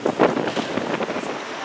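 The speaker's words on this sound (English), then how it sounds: "It's windy as hell, brothers" Strong wind buffets an outdoor microphone in a broad, steady roar with gusty swells, loudest near the start, and no clear voice.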